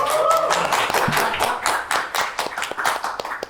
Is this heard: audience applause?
yes